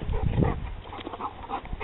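A female dog in a family outdoor setting gives short whimpering yips and soft barky sounds, close and fairly loud, in a brief burst with no clear talking over it.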